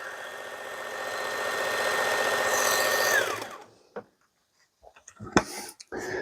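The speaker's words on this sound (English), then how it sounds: "This blade grinder attachment really makes fast work out of these sharpening jobs." A Work Sharp blade grinder attachment runs at slow speed while a skinner knife is touched up, giving a steady motor whine with grinding that winds down after about three seconds, followed by scattered handling clicks and knocks.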